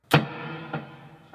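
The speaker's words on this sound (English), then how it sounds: "I have a dotted eighth delay on all the time" Electric guitar through a Line 6 HX Stomp with an always-on dotted eighth delay: a strummed chord rings out and a second attack follows, the tail sustaining and fading softly with no voices.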